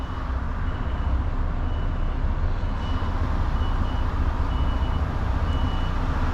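A large truck reverses slowly toward a loading area, its steady engine drone filling the scene close by, with a faint reversing beep in the background and no speech.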